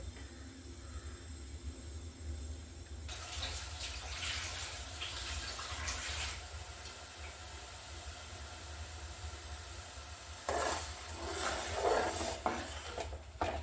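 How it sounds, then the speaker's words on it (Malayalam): Water pours in a steady hissing stream for a few seconds, stops, then runs again briefly near the end, close and fairly soft. "പാത്രത്തിലേക്ക് നമുക്ക് 1 ഗ്ലാസ് വെള്ളം ഒഴിച്ച് കൊടുക്കാം"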